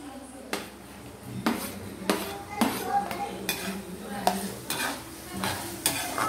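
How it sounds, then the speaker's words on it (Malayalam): Garlic and ginger frying in oil for a Thiruvanthapuram-style lemon pickle, with a steady sizzle broken by repeated scrapes and clinks of a spoon stirring against the pan. "വെളുത്തുള്ളി ഒന്ന് വഴട്ടി കുറച്ച് കഴിഞ്ഞിട്ട് ഇഞ്ചി ഇടാവും ഇനി ഇഞ്ചി ആഡ് ചെയ്ത് കൊടുക്കാം"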